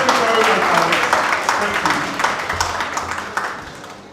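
A workshop audience gives a warm round of applause for a presenter named Alex at a GRNMA Ashanti gathering, a steady clatter of many hands that fades gradually, with voices mixed in.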